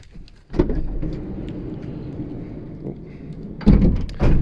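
The sliding side door of a VW Crafter / MAN TGE campervan rolls along its track with a low rumble, ending in a heavy thud as it shuts, followed by a second knock.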